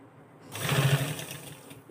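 A sewing machine stitching fabric for a shalwar runs in one short, steady whirring burst, close and fairly loud, starting and stopping within a couple of seconds.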